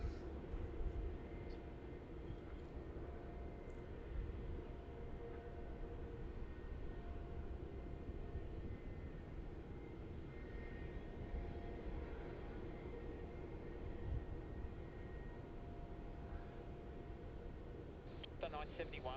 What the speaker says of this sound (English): rolling down runway 16 now is that 350